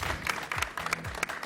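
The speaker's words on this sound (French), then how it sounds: "il faut l'applaudir" Studio audience claps for a guest on a live television aperitif show, bursts of applause mixed with scattered individual claps and a voice underneath.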